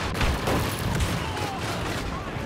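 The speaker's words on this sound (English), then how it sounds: "Explosive shot." A loud explosive shot blasts amid continuous Star Wars Battlefront gunfire and booms, a dense battle din with faint voices mixed underneath.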